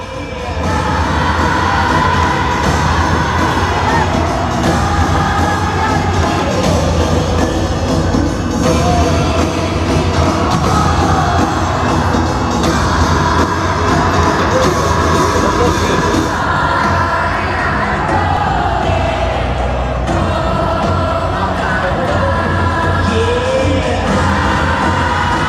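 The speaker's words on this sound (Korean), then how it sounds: "이날의 압권은 당연 아리랑 떼창이었는데요" A huge concert crowd at a show in Las Vegas sings Arirang together, a loud, sustained massed chorus of voices filling the arena with cheering and yells mixed in throughout.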